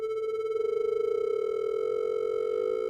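A synthesizer holds a steady, buzzy tone whose loudness wobbles rapidly under a fast LFO, giving a fluttering pulse that smooths out toward the end as new overtones creep in; no voices are heard.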